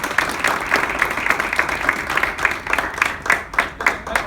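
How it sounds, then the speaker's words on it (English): Audience applause in an education session rings out as a brief round of clapping with a loose, pulsing rhythm, moderately close and without voices over it. "Can we have a round of applause for it?"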